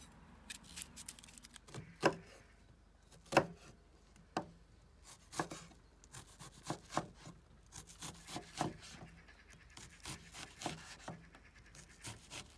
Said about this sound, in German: So, das sind die Zwiebeln, fein gehackt.